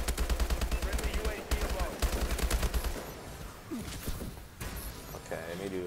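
Loud automatic gunfire without a silencer rattles in rapid bursts during a Call of Duty Advanced Warfare multiplayer match on PC, pausing briefly between volleys, with game effects and faint voices in the mix.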